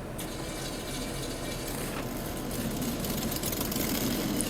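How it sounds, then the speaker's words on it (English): A truck engine idling in the SnowRunner off-road game, a steady close rumble with a broad, even hiss that stays at constant level and grows slightly fuller toward the end, with no talking. "I'm not revving it up, that's just the idle sound."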